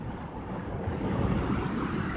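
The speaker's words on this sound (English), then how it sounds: "Listen to that water, you can hear it hitting." Ocean water at Jupiter Inlet, Florida, washes and breaks in a steady, close rush of surf, mixed with gusty wind buffeting the microphone and no voices.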